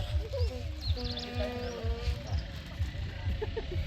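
Goats bleat repeatedly over a steady run of low rhythmic thumps, with people talking in the background.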